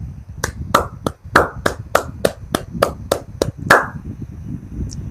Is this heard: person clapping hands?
yes